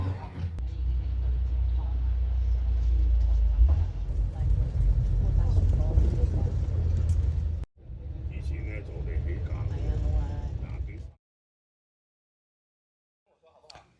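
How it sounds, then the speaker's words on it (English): Inside Hong Kong's number 9 bus, a steady low engine rumble and road drone persist with cabin rattles, then the noise cuts off abruptly into near silence. "I'm on the number 9 bus, which will hopefully take me up to the start"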